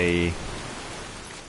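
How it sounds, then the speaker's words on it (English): Rain from the Skyrim Supreme Storms mod in the video game: a loud, constant hiss of heavy rainfall, briefly overlapped at the start by a short voice, then continuing alone at steady volume. "you can obviously see how loud the rain is"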